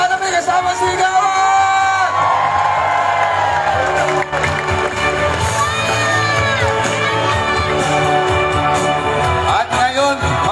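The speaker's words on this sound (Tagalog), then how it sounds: "Parinig ng palakpakan na may kasama sigawan!" A large rally crowd at a political proclamation event in Cabanatuan City cheers, shouts and whoops continuously, with applause mixed into a loud, dense roar that sounds close and unbroken over background music.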